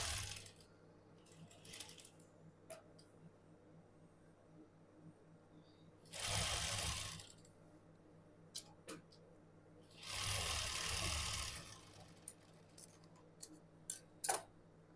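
A sewing machine stitches an umbrella frock in two short bursts of steady whirring, each lasting about a second, with faint clicks and handling taps between them in an otherwise quiet room.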